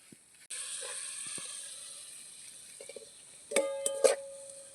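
Water poured into a hot pan of fried ground peanuts, coconut and spices: a sudden steady hiss and sizzle begins, then swells with a few sharper spits and crackles near the end.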